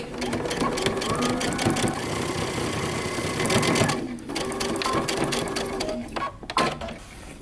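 Sewing machine topstitching a seam on a moto jacket, a loud continuous whirring run with a brief pause near the middle before stitching resumes, close up.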